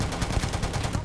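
A ballistic gun firing in the game Starfield, with a fast, steady stream of loud shots in rapid automatic rhythm over about a second.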